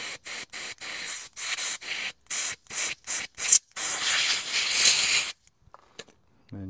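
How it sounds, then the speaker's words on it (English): Compressed air blasts in short repeated bursts through the jets of a blocked Honda VFR 400 motorcycle carburetor, a rhythmic series of close hissing puffs ending in a longer continuous blow before falling quiet. "Yeah, they're blowing through nicely. A bit of compressed air again."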